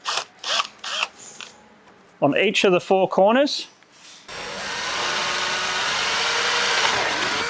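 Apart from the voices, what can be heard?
drilling plastic with six mm bit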